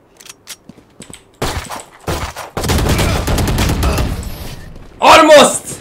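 Gunfire from a pistol in the game Valorant, with scattered faint shots leading into a dense run of rapid reports and a loud final burst near the end, all mixed with in-game noise.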